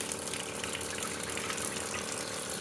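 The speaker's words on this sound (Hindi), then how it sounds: "ये चल रही है मोटर, तो पानी जो है वो गरम गरम ही आएगा यहाँ से" Hot water runs steadily from a motor-fed tap outdoors in snowy weather, a continuous broadband rush at moderate level with no voices.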